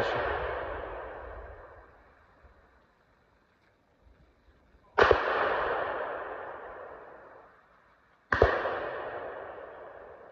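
Two sharp hunting gunshots crack out several seconds apart, each followed by a long rolling echo that fades slowly across open country.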